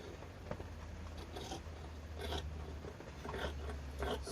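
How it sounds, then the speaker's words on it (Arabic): Scissors cut through jewel-toned fabric for a kimono-style kaftan, giving soft repeated snips and rasping scrapes at close range with no talking. "غادي نبدا دابا نقطع من التحت"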